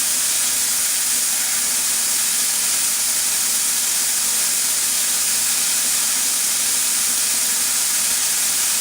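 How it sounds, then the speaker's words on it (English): An air compressor runs with a steady, broad hiss that stays even and fairly loud throughout, with no voices over it. "That's the compressor kicking on"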